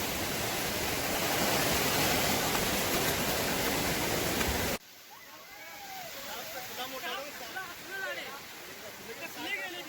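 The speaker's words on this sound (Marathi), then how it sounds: "वरती एक धबधबा आहे, त्याचं हे पाणी आहे." Steady rushing water roars loudly for a few seconds, then cuts to a softer, splashing flow of waterfall water nearby.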